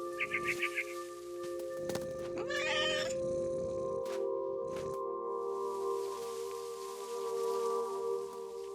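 A cat meows in a short burst of repeated calls in the game What Remains of Edith Finch, heard over steady ambient game tones and a brief rustling shuffle.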